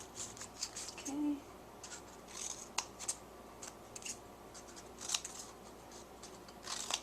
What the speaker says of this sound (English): we'll cut all those little tags off the edges